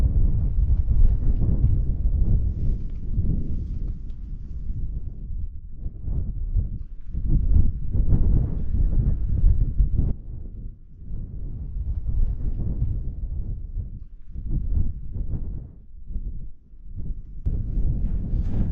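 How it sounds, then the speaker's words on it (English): Wind gusts steadily across an open high fell at Walla Crag while a tent is pitched, a constant low, rumbling buffet against the microphone that swells and dips throughout. "There's about a 15-mile-an-hour wind sort of coming through in this direction"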